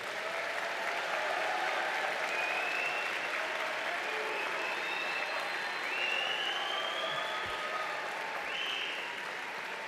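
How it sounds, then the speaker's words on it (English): Sustained applause from a large graduation audience honoring graduating nursing, applied health and public health students at a fall university commencement, a steady even roar of clapping lasting throughout. "Will everyone please join me in applauding these outstanding graduates?"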